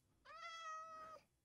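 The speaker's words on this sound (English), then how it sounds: "A cat has spawned." A single drawn-out cat meow from Minecraft, clear and alone over a faint quiet background, lasting about a second with a steady tone.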